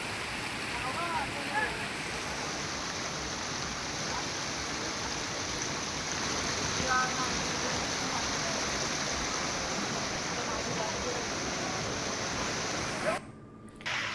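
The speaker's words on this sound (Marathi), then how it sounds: "राजापूरमध्ये सध्या जोरदार पाऊस बरसतोय" Heavy monsoon rain pours in Rajapur while floodwater rushes over a causeway, a dense, steady roar that stays level before cutting off abruptly near the end.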